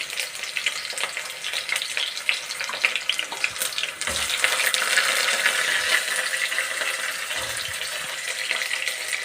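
Onions with curry leaves and cumin seeds crackle in hot oil, a steady dense sizzle that swells louder midway and holds, with no voices over it.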